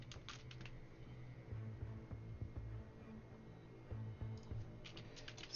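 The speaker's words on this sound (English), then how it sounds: "I like typing." Quiet tapping on a computer keyboard, scattered clicks in short bursts over a low steady hum, fairly faint and close, with no talking.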